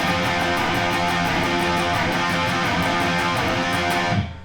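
An extended guitar slide passage, dense, loud distorted electric guitar with rapid picked repetitions throughout, ending abruptly.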